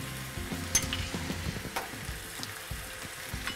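Egg scrambles in a hot pan with a sauce of coconut palm sugar, tamari and rice wine vinegar, crackling and sizzling softly with scraping stirs and small pops throughout.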